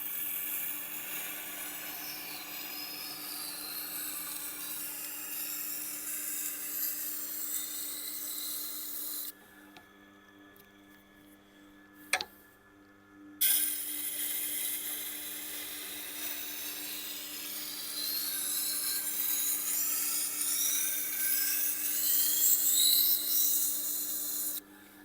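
Knife edge stroked against a sharpening stone at a 35 degree angle, a steady rasping rub in repeated passes per side, broken by a short pause with a single sharp tap before the strokes resume.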